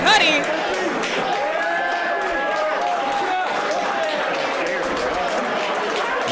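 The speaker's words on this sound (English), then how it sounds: "You hear the crowd kind of showing some respect." Wrestling-event crowd giving scattered, grudging applause and murmuring chatter in an arena, a continuous noisy wash of clapping and voices throughout.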